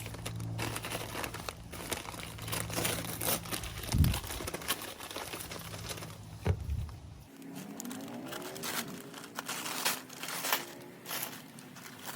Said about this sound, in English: So let's unwrap this one, and let's see how big this one is.